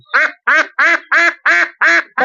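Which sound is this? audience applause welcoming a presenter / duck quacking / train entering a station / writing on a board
duck quacking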